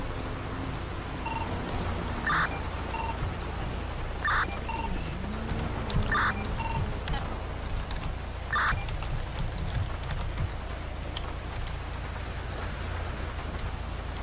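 Steady rainfall in the GTA 5 video game, a continuous hiss of drops on surfaces. A few faint beeps sound at regular intervals above the rain, with no talking.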